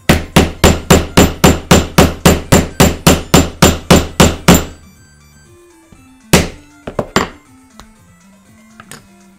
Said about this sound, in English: I can stop hammering this really hard and making a ton of noise for now.